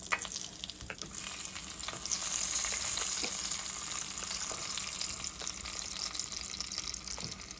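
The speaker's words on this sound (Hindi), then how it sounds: "तो ये देसी घी के 3-4 जो हैं चम्मच मैं इसमें डाल रही हूँ।" Desi ghee sizzles steadily in a pan at the start of cooking eggplant bhurta, a continuous close frying hiss with a few faint clinks and no talk.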